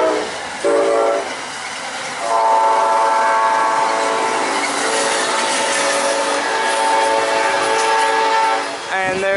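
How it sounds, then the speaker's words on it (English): An Amtrak 79 southbound passenger train passes loudly and close by, its horn sounding in sustained, layered blasts over the rumble of the moving cars for most of the pass. "Goes AMTRAK 79 southbound by Micro."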